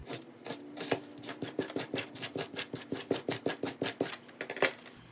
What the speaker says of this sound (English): I'm gonna do more distressing towards the hem and the back here